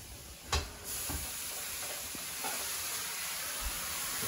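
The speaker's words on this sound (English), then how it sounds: "starting to hear a little bit of sizzling here" Chicken sizzles in a Member's Mark frying pan with added water, a steady bright hiss broken by a few sharp crackles and pops, close and fairly quiet.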